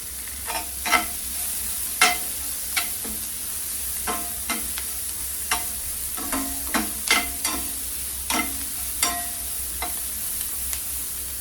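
Chopped vegetables fry in butter in a pan for a white pasta dish, a steady bright sizzle running throughout with scattered sharp clicks and scrapes of stirring, close up and with no voices.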